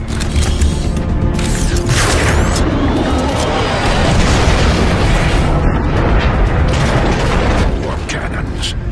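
Warp cannon blasts in the video game Transformers: Fall of Cybertron, a loud continuous barrage of booming explosions and metallic crashes that fills the whole stretch without letup.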